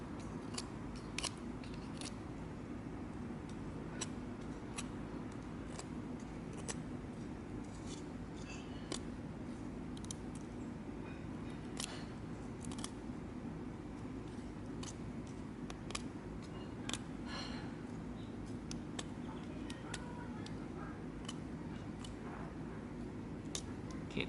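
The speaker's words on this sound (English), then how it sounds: "So I'm going to sharpen both ends to a tip." Green bamboo ends are whittled to a point with a blade, a quiet, irregular run of sharp snicking cuts and small crisp clicks over a soft, steady background.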